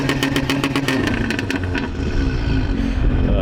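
A tuned Dodge Challenger ScatPack idling with its exhaust valves open, a loud, deep, steady rumble with a rapid lumpy pulse, close by and heard alone without voices.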